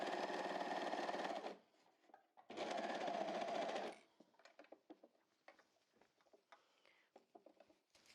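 A serger overlocker sews a fabric band in two loud, whirring bursts of about one and a half seconds each, followed by quiet handling rustles and small taps of the fabric and machine.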